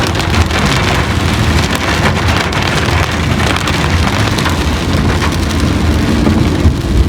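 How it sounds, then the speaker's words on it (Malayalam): Heavy rain pours steadily, a dense unbroken roar of drops hitting surfaces, loud and close throughout. "നല്ല കിടിലം മഴ കേട്ടോ,"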